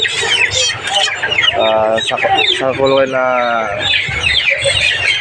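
Many broiler chickens cluck and squawk together inside a poultry house, a dense continuous chorus with a person speaking briefly under it.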